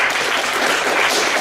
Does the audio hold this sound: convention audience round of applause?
yes